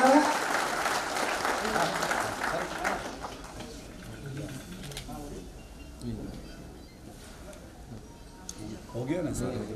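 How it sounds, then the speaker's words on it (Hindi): Applause at a lamp-lighting during an oath-taking ceremony of a jewellers' association in Udaipur, strongest at the start and then thinning to scattered claps as voices and room noise take over. "ऐसे दीप प्रज्वलन पर जोरदार तालियां बजाकर अनुमोदन करें"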